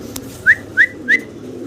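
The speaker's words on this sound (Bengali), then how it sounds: "মাত্র 1500 টাকায় বুদাপেস্ট দিচ্ছে ইয়াং কবুতর" Young Budapest pigeons at a pigeon farm give three short, high squeaky calls at an even pace, close by over a low steady background hum.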